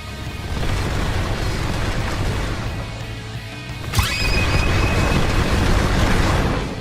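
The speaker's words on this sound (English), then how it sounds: "Dash in with the crazy barrage and it ends with the fiery shockwave." Fiery shockwave from the tiger's Z move in the Blox Fruits video game, a sudden loud boom about two-thirds of the way through, after a dense rushing barrage of impacts.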